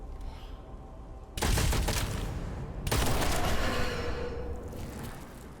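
Gunfire from weapons in the first-person shooter Witchfire, two loud bursts of shots with ringing tails standing out over a quieter game backdrop.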